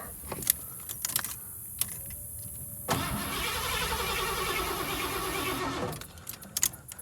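An old Ford Bronco engine, left sitting for 16 years, cranks with keys jangling, catches, and runs roughly for a few seconds before shutting off, followed by faint clicks.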